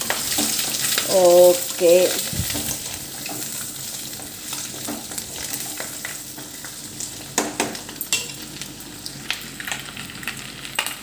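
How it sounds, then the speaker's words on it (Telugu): A spoon stirs an egg and dosakaya curry in a clay pot over a steady sizzle, with scraping clatters near the start and a brief spoken word. "ఒకసారి కలుపుకుందాం."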